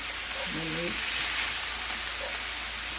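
Ground meat browning in a skillet over medium-high heat for nachos, giving a steady, close, broad sizzle throughout with a few faint tonal blips in the background; no one speaks.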